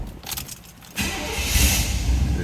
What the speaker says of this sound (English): Go ahead and start this.